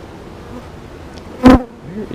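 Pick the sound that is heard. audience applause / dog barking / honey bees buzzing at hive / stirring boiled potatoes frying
honey bees buzzing at hive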